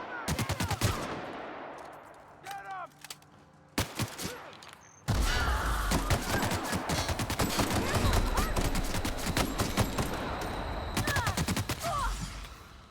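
Firefight in the video game The Outer Worlds: scattered gunshots at first, then sustained rapid gunfire with bursts and impacts, loud and close, with brief voices in between.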